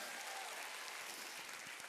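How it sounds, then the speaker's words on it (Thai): Audience applause at a Successmore business event: a steady, dense wash of many hands clapping, fairly faint and distant, continuing without a break. "ปรบมือให้พี่นายอีกครั้งหนึ่ง"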